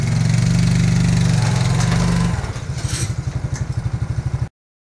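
A Suzuki King Quad ATV engine idles close by, first as a steady smooth drone, then settling into a slower, rougher pulsing beat before cutting off abruptly.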